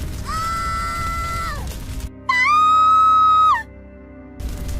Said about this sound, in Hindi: तभी जंगल की ओर से एक तीखी चीख गूंजी।